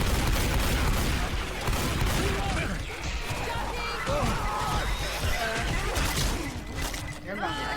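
Chaotic gunfire exchange with repeated shots and bursts crashing over a dense background of shouting voices and battle noise, loud and continuous throughout.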